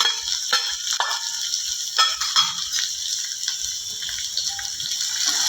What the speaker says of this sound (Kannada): ಇದು ಕೂಡ ಈರುಳ್ಳಿ ಚೆನ್ನಾಗಿ ಫ್ರೈ ಆಗಬೇಕು.